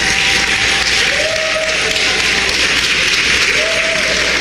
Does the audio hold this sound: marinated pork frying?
no